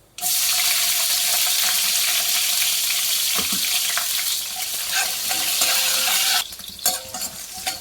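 Dried red chillies and onion pieces frying in a pan for ridge gourd curry, giving a loud, steady sizzle with scattered stirring clicks that cuts off near the end and leaves a few quieter scrapes.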